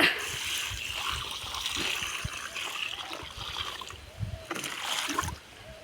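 Water poured over young sugarcane plants in a field, with splashing and trickling that rises and falls in uneven bursts, fairly close and soft.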